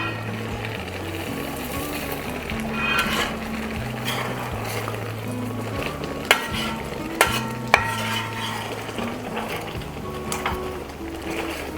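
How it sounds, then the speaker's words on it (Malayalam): Prawns being stirred into a mango curry simmering in a pan, with steady scraping and stirring strokes over a low, continuous bubbling hum, close and moderately loud, punctuated by a few sharper utensil clicks. "നമുക്കിനി ഇതിലോട്ട് ചെമ്മീൻ ഇട്ട് ഇളക്കാം."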